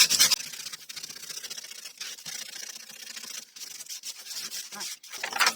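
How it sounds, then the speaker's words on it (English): A squeegee is pressed and dragged over a leather-look journal cover made from packaging, giving close, repeated rubbing scrapes in short strokes with brief pauses between them. "And now I'll come back in with that squeegee."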